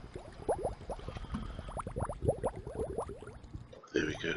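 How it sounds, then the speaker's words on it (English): A bubbles sound effect plays in a Scratch fish tank coding project: rapid, continuous bubbling and gurgling pops at moderate level, briefly dropping out near the end before resuming. "Got the sound of the bubbles as we watch the fish go by"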